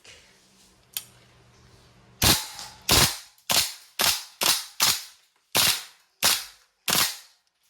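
Gas blowback airsoft rifle, a WE M4 RIS V3, fires a sharp single shot followed by a string of eight crisp, loud pops at a steady, fairly quick rhythm, close to the listener with no voices.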